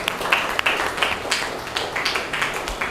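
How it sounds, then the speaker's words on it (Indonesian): A classroom of students claps in a loose, uneven patter of hand claps and taps, close and moderately loud, lasting a few seconds without talking. "Tepuk tangan buat kita semua."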